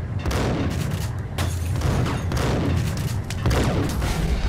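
Rapid, loud gunfire from the video game Max Payne, a dense burst of repeated booming shots with heavy low thumps and echoing tails over roughly four seconds.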